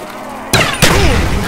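Explosions go off in Call of Duty: Black Ops zombies on the map "Five": a sharp blast, then a second loud boom a moment later, with a crackling tail over steady game noise.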